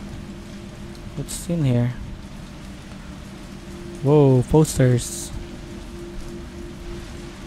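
Steady rain patters outside in the Resident Evil 3 Remake, a soft continuous hiss running under a voice as he speaks a couple of short phrases nearby.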